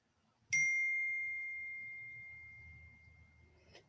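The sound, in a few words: phone notification ding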